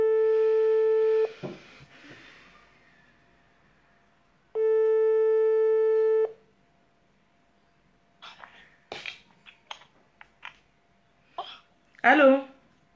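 Two long steady telephone tones sound while a call is dialed on a live broadcast, separated by a pause, followed by soft scattered voices and breathy vocal sounds.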